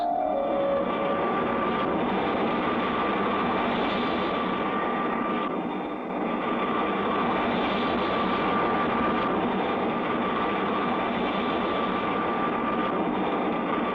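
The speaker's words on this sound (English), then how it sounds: "we'll make a few passes to see if anyone lives on Mars" A cartoon rocket ship passes over Mars with a continuous, steady engine roar, loud and unbroken from start to finish, dipping only briefly midway, with no talk.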